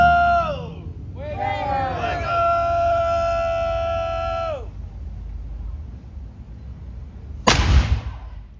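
A historic cannon fires in a demonstration at St. Augustine: one loud, sharp boom late in the clip, following a long sustained whistle or horn-like tone with voices nearby.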